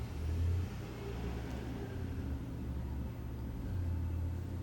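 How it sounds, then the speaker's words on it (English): A car passes in street traffic, a low rumbling engine swelling, easing off and swelling again at moderate distance, with no talking. "Pardon the traffic noise."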